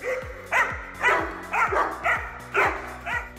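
A Rhodesian Ridgeback barks repeatedly in a steady rhythm, about six sharp woofs spaced half a second apart, fairly close, with a low growling undertone between them.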